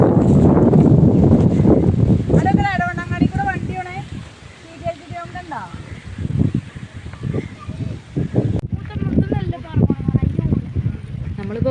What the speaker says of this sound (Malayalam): നമ്മൾ തന്നെ പാറിപ്പോകുന്ന മാതിരിയുള്ള കാറ്റാണ് ഇവിടെ അടിക്കുന്നത്